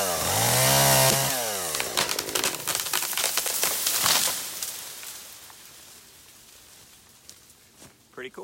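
A chainsaw cuts the tab to fell a tree while clearing land on a hobby farm, starting loud and close with a revving whine, then breaking into crackling snaps and rustling as the tree falls, fading to quiet.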